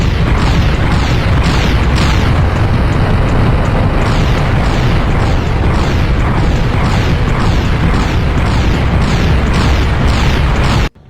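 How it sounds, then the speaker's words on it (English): Rapid repeated explosions from an alien projectile weapon in the Turok remaster, loud booming bursts in quick succession over a dense continuous rumble, stopping abruptly at the end. "It shoots out a projectile and explodes after a second."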